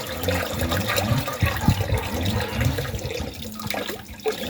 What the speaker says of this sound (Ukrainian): Я отак лию тоненькою струйкою і отак буду потихеньку вводити.